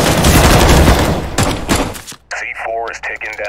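Counter-Strike: Global Offensive gunfire, a dense burst of rapid automatic shots and heavy thumps up front that stops abruptly, after which a voice speaks alone.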